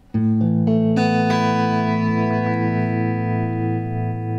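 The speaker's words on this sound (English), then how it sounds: "it's a quick volume tremolo. It's not a modulation." Sustained guitar notes through a tremolo pedal ring out with a rapid, steady pulsing in volume, a quick wobbling throb over each chord, loud and close with no talking.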